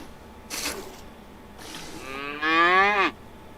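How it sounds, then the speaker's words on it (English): Cows and a bull on a farm in the video game Medieval Dynasty give a short low moo, then a long, loud, drawn-out bellow that rises and falls before cutting off, heard alone over a faint ambient bed. "What is wrong with you, cows? Oh, that's the bull."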